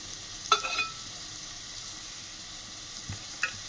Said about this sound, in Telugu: ఆనియన్స్, చెక్క, లవంగాలు, అనాస పువ్వు, యాలకులు, లవంగాలు, షాజీరా ఇవన్నీ ఆనియన్తో పాటు వేయించుకోవాలి